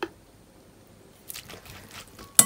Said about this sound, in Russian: Заливаю лук рисовым уксусом.